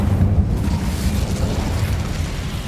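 A roaring Incendio fire spell from the video game Hogwarts Legacy, a loud, steady whoosh of flame with rumbling low end that carries on for a few seconds without speech.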